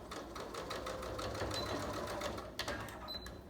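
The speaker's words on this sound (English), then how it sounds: "So I'm almost done sewing in a complete circle." A sewing machine stitches around a pajama pant hem in a steady, rapid mechanical chatter, close and fairly quiet, with a brief bump near the end.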